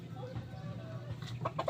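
A chicken clucks softly in a few short, quick bursts near the end, faint and close against a low background hum.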